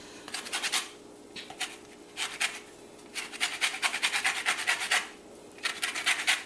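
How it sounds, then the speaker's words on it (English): A lemon's yellow outer skin is zested on a grater, giving bursts of close, dry rasping strokes in quick runs with short pauses between, alone and fairly loud. "get some of that lemon zest in here"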